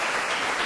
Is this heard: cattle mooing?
no